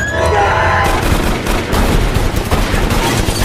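Dense, continuous film gunfire roars through the whole stretch, Yakuza firing blindly into darkness, a loud sustained barrage of rapid shots with booming low end and no gaps.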